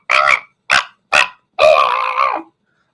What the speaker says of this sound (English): you hear the dogs going crazy by her.